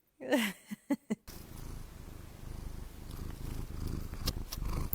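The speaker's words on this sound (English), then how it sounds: "my cat is on top of me purring." A cat purrs steadily and close up, a soft continuous rumble following a few brief handling noises at the start.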